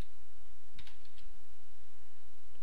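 A quick burst of keystrokes on a computer keyboard, a few close, light clicks typing a short entry over a steady background hum.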